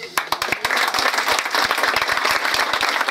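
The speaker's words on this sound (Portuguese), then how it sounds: "Que Santos Reis abençoe ele e que lhe dê uma salva de palmas para ele." Applause and clapping from a small group at a Folia de Santos Reis home celebration, steady and loud for the full stretch with sharp individual claps cutting through.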